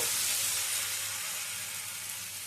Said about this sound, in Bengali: এবারে ভাতের ব্যাটারটা আমি এর মধ্যে দিয়ে দিচ্ছি।